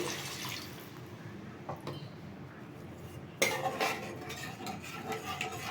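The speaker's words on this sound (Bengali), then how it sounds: "এবার আমি জলটাকে অ্যাড করছি" Water is poured into a pan of cooked spice masala for a raw jackfruit curry, with soft metallic clinks and stirring, then a sudden loud hiss and sizzle as the liquid hits the hot oil.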